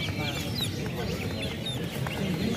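Jungle fowl cluck and chatter from close cages at a traditional Javanese bird market, a dense busy layer of clucks and calls with people talking among the crowd.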